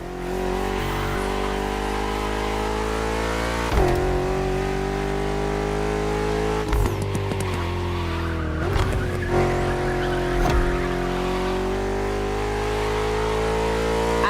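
BMW M CS competition-sport cars driving long distances on open roads with traffic in the video game The Crew Motorfest: a loud, steady engine drone that rises and falls in pitch with brief tire screeches and shifts throughout.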